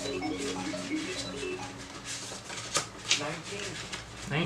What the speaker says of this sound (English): Shuffling, shuffling.